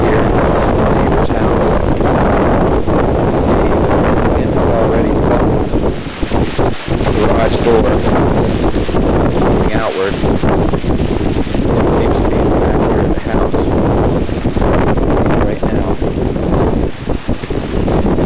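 Strong hurricane wind from Hurricane Frances roars steadily and loudly against the microphone outside a house in September 2004, with heavy gusting buffets and brief lulls throughout, while a voice talks faintly beneath it.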